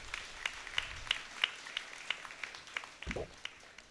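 A church congregation claps during a Tamil-language feast-day mass for Saint Anthony, faint and distant, a scattered run of separate claps and no sustained roar.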